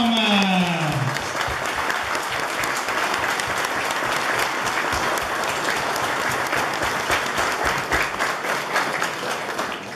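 A crowd applauds loudly and continuously at an outdoor Sunday mass celebrating the popular saints in a Portuguese association's park, following a brief amplified voice at the very start.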